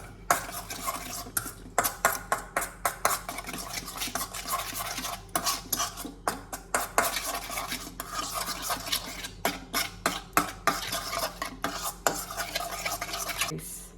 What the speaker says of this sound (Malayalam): നമ്മളിത് അങ്ങോട്ട് മിക്സ് ചെയ്യാം.